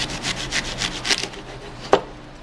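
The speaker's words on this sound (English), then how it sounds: "take the artichoke and cut about an inch of the top off" A knife saws through the top of an artichoke in a series of rhythmic rasping strokes, ending in a sharper crunching cut, close and alone with no talk.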